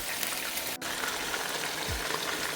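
Onion and mushrooms frying in butter in a pan give a steady, close sizzle throughout, with a brief break near the start and a low thump toward the end.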